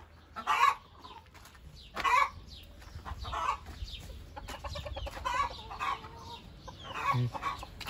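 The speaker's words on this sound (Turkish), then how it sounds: "Gıdaklama boşuna arkadaşlar." Hens cackle and cluck nearby, loud bursts of calls spaced a second or so apart, with softer clucking between them and no voices.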